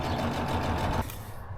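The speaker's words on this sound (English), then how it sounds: "So we're gonna sew this the same way, except for the lining" A sewing machine stitches the lining of a fabric reusable shopping bag, running in a steady close whir for about a second before stopping abruptly, leaving only quiet room noise.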